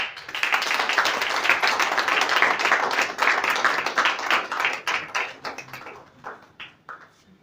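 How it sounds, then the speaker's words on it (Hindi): An audience at a Hindi book launch event for a poetry collection applauds in a dense, steady burst of clapping that thins out and fades toward the end. "ताली बजाना है।"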